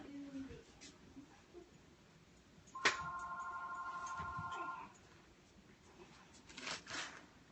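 Indoor telephone ringing, one sustained electronic ring of about two seconds near the middle, faint and somewhat distant against low room noise, with a little talk around it.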